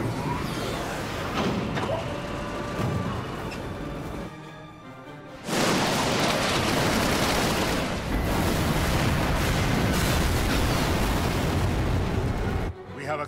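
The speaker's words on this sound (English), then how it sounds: "Give word to the cannons. Make ready and fire." Airship cannons in the Final Fantasy XII game fire a volley: heavy booming blasts and rumbling bursts, loud and dense, with a brief lull midway before the barrage resumes, mixed with game sound and voices.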